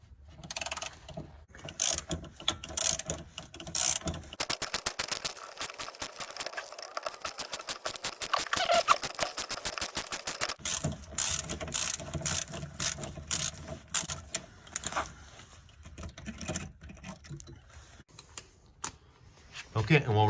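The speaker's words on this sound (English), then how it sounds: "we're going to use a 10 mil extractor to try and get this out" A ratchet with a 10 mm extractor socket works a seized, rust-treated bolt on a Chevy Cavalier fuel filler neck, giving rapid, close clicking runs in bursts with pauses and someone talking between them.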